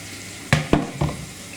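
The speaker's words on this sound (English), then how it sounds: "give it a rinse basically under the tap and give it a good wash" Three brief splashy bursts of water, close by, as rice is swished and rinsed in a saucepan under a running tap, separated by short pauses.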